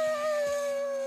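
In The Last of Us Part II, a character voices an imitation of a wolf howl, a single sustained tonal wail held steadily for about a second with no other sound.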